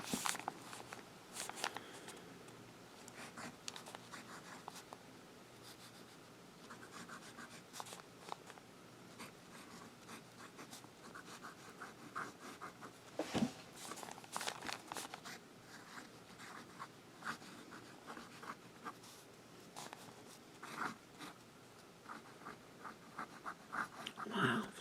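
A Pilot Vanishing Point fountain pen nib writes on 52 g Tomoe River paper, giving a soft, continuous scratch broken by small pauses between strokes, close and fairly quiet.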